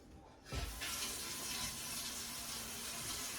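Tap water runs steadily into a canning pot being filled halfway for jam, a sudden splash at the start settling into a continuous close rushing stream.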